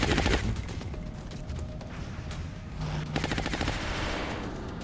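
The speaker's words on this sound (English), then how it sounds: "the constant gunfire sound effect can definitely get annoying in this game" Rapid bursts of machine gun fire in a video game, overlapping volleys crackling continuously, loud and close.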